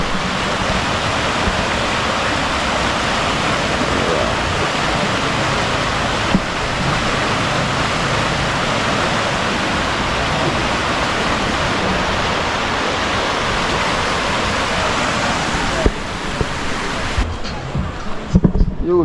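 Broad, steady rush of a flowing river, loud and continuous throughout, with no clear talk over it.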